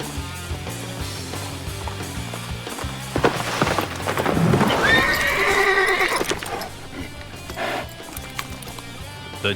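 A horse in the game Dynasty Warriors 6 lets out a loud whinny midway, with clip-clop hooves and game sounds around it.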